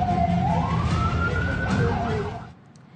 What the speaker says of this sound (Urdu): ایرانی حملوں کے بعد ایک بار پھر تل ابیب، مقبوضہ بیت المقدس، حیفا سمیت کئی شہروں میں سائرن بجائے گئے۔